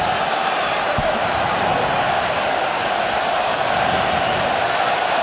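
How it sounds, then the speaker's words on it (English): A rugby stadium crowd at the New Zealand versus France final in Auckland roars continuously, a dense, distant wall of chanting and yelling for the All Blacks that carries on steadily throughout. "The crowd is yelling, All Blacks."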